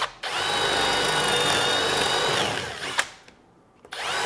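A power drill turns a spade bit into wood while mounting a walleye for taxidermy, a loud steady whine for about two and a half seconds, then winding down, a brief pause and a restart.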